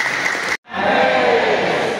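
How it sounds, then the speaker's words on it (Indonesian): Audience applause at a Sundanese community anniversary gathering in Bengkayang, a loud crowd clapping that briefly cuts out, then resumes with dense, sustained applause and some cheering. "Mohon izin tepuk tangan Bapak Ibu."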